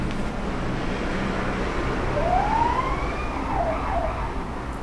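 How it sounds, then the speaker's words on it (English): A siren wails past outdoors, rising and falling over steady traffic rumble, moderately distant and continuous without speech. "sirens"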